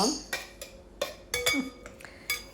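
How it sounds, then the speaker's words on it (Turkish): Ingredients for a sugar-free orange and carrot cake are stirred in a bowl, with a utensil clinking and scraping against the bowl in several short, close knocks spread unevenly. "Ben bu şekilde kasemin içerisinde karıştıracağım."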